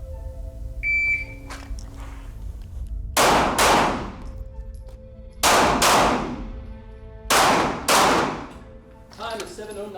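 Glock 17 pistol shots ring out during close quarters training, three sharp pairs of loud reports spaced a couple of seconds apart, preceded by a brief beep and faint background noise.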